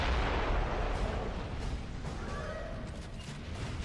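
Continuous heavy rumbling mortar fire and explosions in the video game Gears of War Judgment, a dense, loud, booming wash that never lets up.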